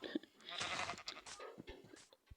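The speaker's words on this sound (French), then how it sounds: "Pour faire du lit, on a besoin de moutons." Sheep in the Minecraft video game give a few quiet, short bleats in quick succession, heard faintly with no other sound around them.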